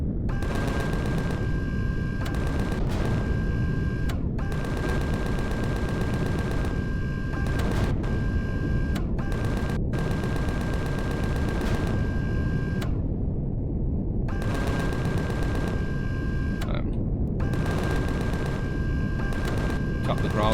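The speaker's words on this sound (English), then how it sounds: "We're actually firing at those mechanoids." Rapid automatic gunfire blasts at mechanoids in Empyrion Galactic Survival, loud sustained bursts with brief gaps, over a steady droning background with a constant tone.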